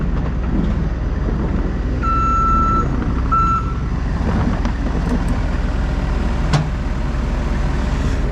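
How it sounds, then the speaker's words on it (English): A loaded farm truck backs out of the way near a grain bin, its reversing beeper sounding in steady tones over a low diesel engine rumble and outdoor noise. "Truck is full. Pulling it out of the way so we can get corn out of there in the morning."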